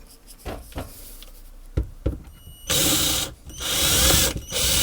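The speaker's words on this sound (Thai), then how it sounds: "แล้วก็เจาะครับ เจาะนำนิดนึงนะครับ เพื่อเพิ่มให้ขันน็อตได้ง่ายขึ้นนะครับ เพราะว่าบริเวณนี้เป็นไม้อัดนะครับ" A few short knocks and clicks, then a drill whirs loudly in two bursts with a short pause between, boring a pilot hole into plywood. No talking.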